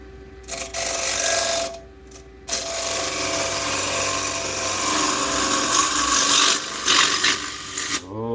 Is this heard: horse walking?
no